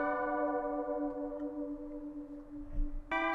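A dry synth key plays a clear, bell-like sustained chord that slowly decays, followed by a brighter new chord struck near the end, alone with no talking.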